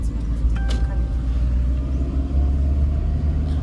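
A car being driven on a village road in India: a steady engine rumble and road noise continue throughout at close range, with a brief faint voice near the start.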